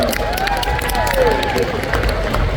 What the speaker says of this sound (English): round of applause for Miss Pink Cheri Bomb